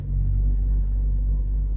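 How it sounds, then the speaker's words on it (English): A reefer refrigeration unit runs on a neighbouring truck trailer, making a loud, steady low rumble close by with no talking over it. "I think he got his reefer running. That's where all that extra noise is coming from."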